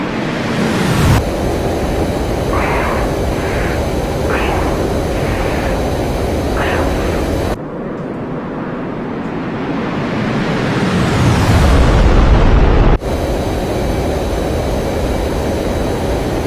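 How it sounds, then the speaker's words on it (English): An F-15C jet in the DCS flight simulator game makes a maximum power takeoff: a loud, steady engine roar rises into a swelling rush of noise, then drops back to a constant drone, with a voice talking over it. "And we'll do a maximum power takeoff here."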